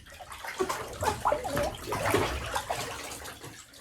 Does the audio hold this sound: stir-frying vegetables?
no